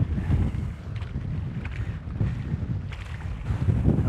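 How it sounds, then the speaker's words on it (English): Wind buffeting the microphone on a fishing boat off Augusta, Western Australia, with gusty low roaring and surging that stays loud and constant, with no talk. "The wind's starting to get up"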